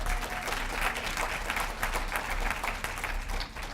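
An audience at a university town hall breaks into sustained applause for the team, a steady wash of many hands clapping throughout.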